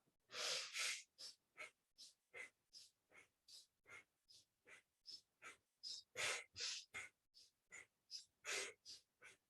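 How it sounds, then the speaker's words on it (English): Bhastrika bellows breathing from yoga pranayama, done in Hakini Mudra: quick, forceful breaths pump in and out through the nose in a steady rhythm of about two to three per second, some stronger than others, close and quiet. "Bhastrika, the bellows breath in Hakini Mudra."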